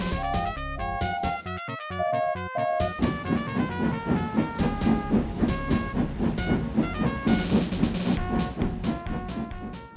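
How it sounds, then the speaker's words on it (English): A circus train pulls away in an animated Thomas & Friends story, with rhythmic steam chuffs and clattering wheels under a bright brass-band tune that fills the whole passage. "Thomas watched as the circus train left."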